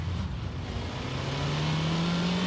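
A Citroën car accelerating in The Grand Tour video game, its engine note climbing steadily in pitch as it revs up, loud and continuous with no talking.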